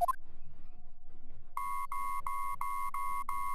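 Electronic beeping in the Ace Attorney Investigations 2 video game: a quick chime of rising blips, a short quiet pause, then six evenly spaced, sharp, loud beeps in a steady rhythm.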